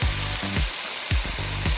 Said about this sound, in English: let's add a few curry leaves into the anchovies mixture.